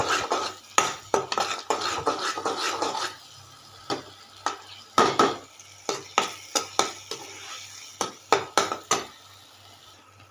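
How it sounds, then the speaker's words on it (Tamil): Jackfruit halwa is stirred in a pan with a spoon, making a busy scrape and clatter of metal on metal with irregular knocks and a faint sizzle underneath, briefly quieter midway before the knocking resumes. "இப்படி கிண்டி விட்டுட்டே இருக்கணும்."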